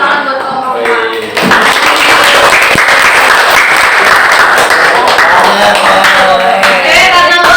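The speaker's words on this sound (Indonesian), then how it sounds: "beri tepuk tangan buat kelompok 4" Students clap for a group in a classroom, a loud, close round of applause that starts abruptly after a short moment of talk and holds steady, with voices faintly underneath.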